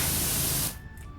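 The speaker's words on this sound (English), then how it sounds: "A weirdly satisfying spray," Pressure washer spray in Power Wash Simulator cleaning a helter skelter: a dense, close hiss of water that runs steadily and then cuts off abruptly just past half a second.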